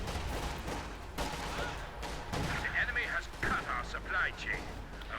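A Company of Heroes 2 battle in a one-versus-one match fills the scene with rolling gunfire and dull blasts under a dense wash of combat noise while a commentator talks throughout.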